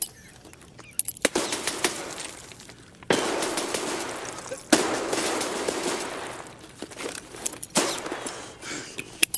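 Grenade explosions and sharp gunfire bursts in Escape From Tarkov, several loud cracking blasts separated by brief lulls, with fainter rattling and clatter between them.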